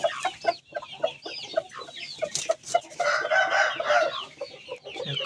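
Chickens cluck in bursts at a poultry breeder's, with overlapping short calls and a rooster-like crow rising loudly near the middle, close by and lively with no talk.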